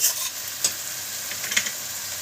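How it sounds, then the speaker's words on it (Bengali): A thick paste of tomato, onion, ginger and garlic sautés in a pan for an egg omelette curry, giving a steady sizzling hiss with occasional scraping stirs. "মশলাটা আমরা কষিয়ে নিচ্ছি যে পেস্টটা করলাম টমেটো পেঁয়াজ আদা রসুন"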